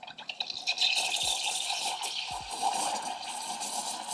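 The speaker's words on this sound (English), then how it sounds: "So, start frothing," Milk being frothed in a hand coffee frother, a steady hissing, bubbling wash of fine aerated liquid noise that runs close and continuous, with small splashy ticks near the start.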